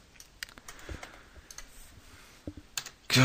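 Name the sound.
pressing the U key on a computer keyboard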